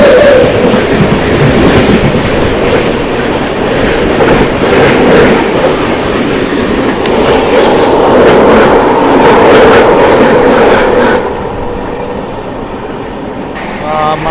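The 12722 Hyderabad Deccan Dakshin SF Express rumbles loudly along the rails, with a continuous rolling roar and rhythmic clatter of the wheels heard from on board, easing slightly quieter near the end.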